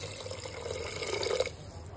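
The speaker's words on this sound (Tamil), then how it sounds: "இப்போ நல்லா மிக்ஸ் பண்ணிட்டு இப்போது இந்த ஸ்டேஜில் தண்ணி ஆட் பண்ணிடலாம்." Water poured into soaked rice in a pot for green pulao makes a soft, steady splashing trickle that swells briefly and then stops, quiet and close.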